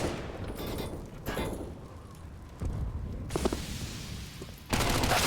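CS:GO match gunfire from a MAC-10 and a Desert Eagle: several bursts of shots separated by short gaps, mid-distance and moderately loud, with a heavier burst at the very end.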